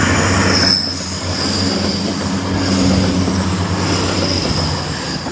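An Avanti West Coast Class 805 train passes a level crossing, a loud, sustained rush of wheels and rail with a high metallic squeal held steady throughout.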